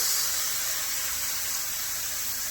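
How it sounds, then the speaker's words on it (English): Shrimp stock strained into a pan makes a steady, soft, hissing stream of pouring liquid that runs evenly and unbroken, close by and quiet, with no talking. "So we're going to do the straining right now in a little time as well, so we can get a little liquid to the pan."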